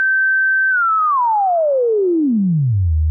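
A computer-synthesized sine-like tone holds a steady, fairly high pitch for a moment, then glides smoothly and continuously downward to a low hum over about three seconds. It plays loud and alone, with no voices.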